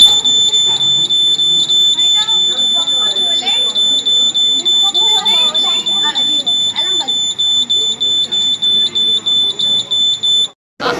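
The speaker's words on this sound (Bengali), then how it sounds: "যখনই ভূমিকম্প বা কম্পন হবে তখনই অ্যালার্মটা দেখতে" A science exhibition model of an earthquake alarm sounds a steady, loud high-pitched electronic tone with rapid pulsing beeps, running continuously nearly the whole time while people talk and crowd chatter carry on beneath it.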